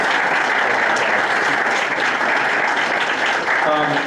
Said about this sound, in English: I'd like to give them a nice round of applause for everything they've done for us.